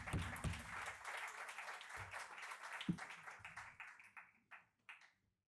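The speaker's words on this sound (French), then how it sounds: "On les applaudit, on les encourage" Audience applause for the jury at a pitch competition, dense clapping from a crowd that thins out into a few scattered, fading claps before stopping.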